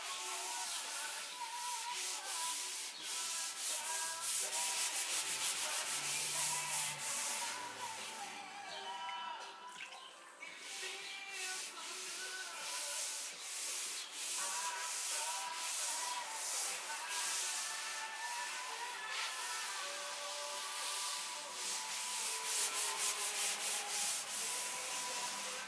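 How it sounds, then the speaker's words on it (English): Sandpaper rubs steadily over rusty metal, a continuous, close gritty sanding with fast repeated strokes and no pauses. "I think you take a piece of sandpaper and sand it down after that."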